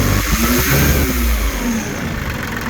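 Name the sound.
diesel engine revving with throttle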